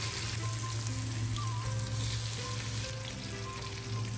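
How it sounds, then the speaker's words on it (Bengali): Lentil fritters (bora) deep-frying in hot oil in a kadai over medium heat, a loud, steady close-up sizzle that crackles evenly throughout. "কড়াইতে তেল গরম করে মিডিয়াম আছে আপনারা সমস্ত বড়াগুলোকে আস্তে আস্তে ভেজে নেবেন"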